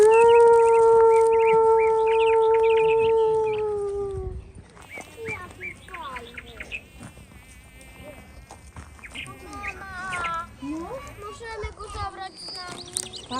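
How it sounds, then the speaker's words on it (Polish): Wolves in a park in Chorzów give one long, loud, sustained howl that slides downward and fades after about four seconds. Quieter calls and chatter from people follow. "Co to się porobiło? Wilki w parku?"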